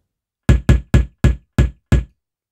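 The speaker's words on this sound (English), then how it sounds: "already we're starting to get a kick drum sound" Six synthesized kick drum hits built with the DRUMR device in Ableton, deep punchy thumps with a quick decay in an uneven rhythm, close and clean with nothing else around them.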